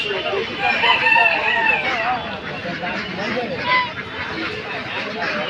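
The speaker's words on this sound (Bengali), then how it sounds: "চারশো টাকা কিলো দেশি মুরগি" Native chickens at a duck and chicken market cluck and crow up close, with sharp bursts of calls over a busy background of crowd chatter.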